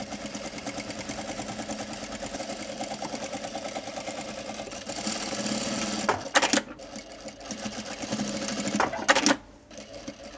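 A sewing machine runs steadily over the internal pocket of a pair of shorts, its fast even needle rhythm close and continuous, with brief louder bursts near the end.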